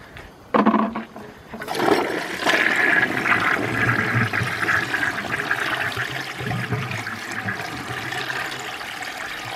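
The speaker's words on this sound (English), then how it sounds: "here's the second flush of the long towel" A 1946 Kohler Trylon toilet, flushed with a long towel in the bowl, gives a loud near rushing flush after a short click, then settles into a steady gurgling swirl and refill that keeps running.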